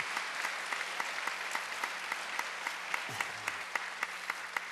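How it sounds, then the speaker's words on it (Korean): A church congregation gives a welcoming round of applause during a Korean service, a soft, steady spread of clapping heard from a distance, with a few sharper claps standing out near the end. "자, 우리 한번 힘차게 박수로"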